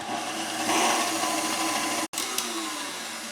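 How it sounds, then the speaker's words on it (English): An electric hand mixer whirs steadily at medium-high speed, beating egg whites until foamy, with a dense close hum broken by a brief cutout near the end and no talk. "now I'm going to beat these whites at medium-high speed just until they start to foam"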